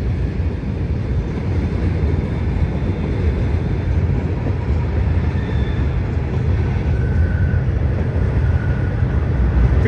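A Norfolk Southern train rumbles across a trestle as a steady, loud, low roar of wheels and cars that lasts throughout, with some wind noise.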